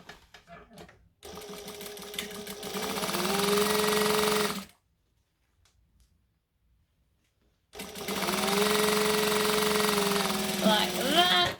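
A sewing machine back stitches a jacket seam for McCall's M6442, running in two loud, steady whirring bursts separated by a few seconds of silence, close and alone.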